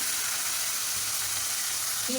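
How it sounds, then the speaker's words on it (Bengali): Fish frying in hot oil in a home kitchen gives a steady, fairly quiet sizzling hiss with no voices. "মাছগুলো ভাজা করে নিই তেল গরম হয়ে গেছে"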